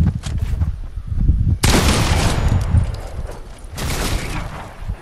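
Gunfire in the battle royale video game Fortnite, several sharp loud bursts with a heavy blast partway through and another near the end, mixed with game noise.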